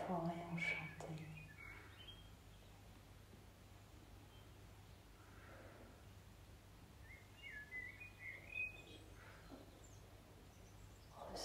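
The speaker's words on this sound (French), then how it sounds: "Vous pouvez à nouveau écouter le chant des oiseaux" Birdsong in an enchanted forest during a guided sound bath: scattered soft chirps and short calls over a steady low hum, heard faintly beneath a gentle spoken voice.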